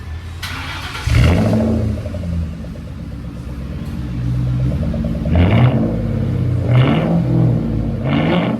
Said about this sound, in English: They just did the muffler deletes and we're gonna see how it sounds.